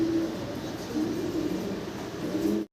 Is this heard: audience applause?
no